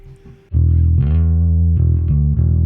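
A few sustained electric bass notes through a Fractal FM9 amp modeler, warm and slightly processed, loud and close after a brief quiet start.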